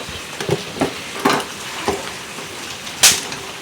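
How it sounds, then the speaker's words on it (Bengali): Mutton kosha with potatoes being stirred and fried in a pan, a spatula scraping and knocking in irregular strokes over a steady sizzle, with one sharper clatter near the end. "সুন্দর করে কষিয়ে নিচ্ছি।"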